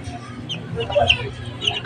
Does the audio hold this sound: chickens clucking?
yes